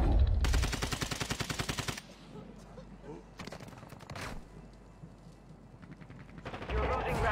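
Assault rifle gunfire rattles in a video game. Two dense automatic bursts come at the start and the end, with sparser shots and scattered game sounds between them. A voice talks briefly under the action.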